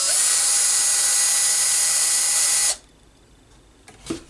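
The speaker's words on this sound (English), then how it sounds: "so we just drill through there" A power drill bores a 2.5mm hole through a plastic part of a Tamiya FF03 model car chassis, a steady high whine for under three seconds that cuts off abruptly, followed by a few faint clicks and handling noises.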